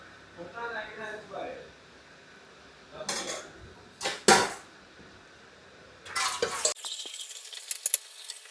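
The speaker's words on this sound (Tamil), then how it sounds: "தண்ணி காய்க்க சட்டி." A metal pot for heating water is handled in a home kitchen, giving several separate clanks and scrapes with quiet gaps between them, and a final busier clatter.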